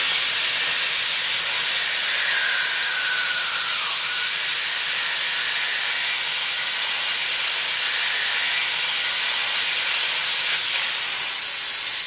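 A welding torch hisses steadily at night near Barstow, California, a loud, continuous broadband rush that barely changes for twelve seconds, with no speech.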